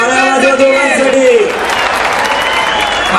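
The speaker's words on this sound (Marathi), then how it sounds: "टाळ्या वाजवा जरा टाळ्या दोघांसाठी." A crowd at a kushti wrestling match in Maharashtra applauds both wrestlers, a dense wash of clapping with a voice rising over it early on and the noise holding steady throughout.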